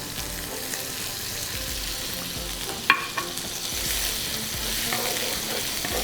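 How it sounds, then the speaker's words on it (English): Garlic, onion and butter sautéing in a pan, a steady close sizzle and frying hiss with a few sharp utensil scrapes and taps as the aromatics are stirred. "And this is a really quick saute."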